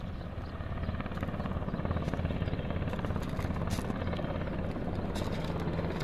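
Helicopter landing beside a hospital in Dibba, a loud, continuous rotor thrum with a rapid pulsing beat and engine whine, close and steady throughout.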